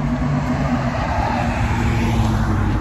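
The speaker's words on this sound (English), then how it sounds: "there's a lot of traffic around because I'm really walking right here on the street" Cars pass along a city street while someone walks beside the road, a dense steady roar of engines and tyres up close, with no pauses and no talking.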